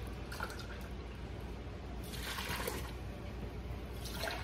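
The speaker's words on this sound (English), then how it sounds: "I'm gonna put the apple cider vinegar in there first." Apple cider vinegar pouring into a bowl for pickles, a faint, steady liquid trickle with soft splashing surges against a low background hum.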